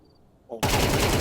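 Rapid burst of automatic rifle fire in the Counter-Strike video game, starting abruptly after a brief quiet lead-in and continuing loud and dense to the end.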